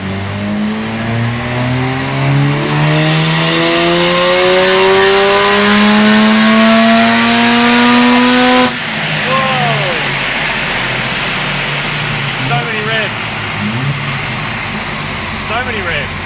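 A Mazda RX-7 converted to a single turbo screams through a tuning run with fixed boost control, its loud engine note climbing steadily for about nine seconds before cutting off into pops and crackles as people talk and cheer.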